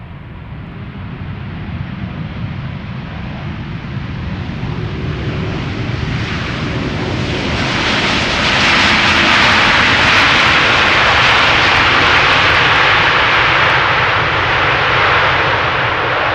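A Boeing Dreamliner jet airliner's roar builds steadily as it approaches Schiphol Airport, growing louder with a rushing high whine, close and continuous with no talk.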